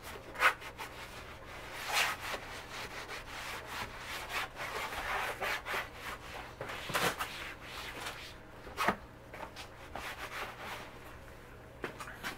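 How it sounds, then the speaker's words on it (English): A microfiber towel wipes across a car surface in soft, irregular rubbing strokes, close and quiet, with faint swishes rising and falling and no talk. "you're going to take your designated microfiber towel and just give it a nice easy wipe"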